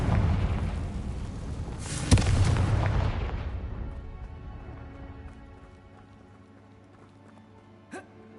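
The Confringo blasting spell in the Hogwarts Legacy video game sets off a loud explosive boom with a sharp crack, and the blast fades into a long rumbling decay before a small thud near the end.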